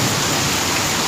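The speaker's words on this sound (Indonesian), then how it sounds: "karena kondisi hujan begini" Rain pours steadily over a 100 m² stingless bee (trigona) farming plot planted with vertical vegetation, making a dense, unbroken hiss that fills the brief moment without pause.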